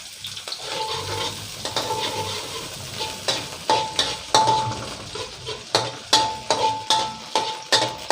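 Oil sizzles in a wok as spring onions are stir-fried, with repeated sharp scrapes and clinks of a utensil against the wok, growing more rhythmic.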